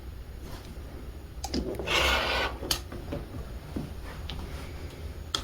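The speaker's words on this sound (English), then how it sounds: "I'm going to cut a little bit off of this end." Scissors or a rotary cutter slice through a strip of quilting fabric, a short close rasping cut with a few light taps and handling sounds around it in a quiet room.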